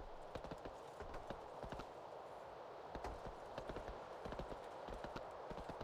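Horse hooves clip-clop steadily in a World of Warcraft game, a faint, even trot of repeated sharp knocks over a low ambient bed.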